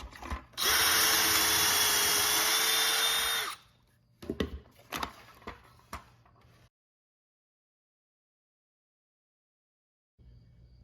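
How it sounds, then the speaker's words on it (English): A power drill whines loudly and steadily for about three seconds while drilling clamped reclaimed wood, then stops; a few scattered clunks and knocks follow before silence. "Clamp it down and get to drilling."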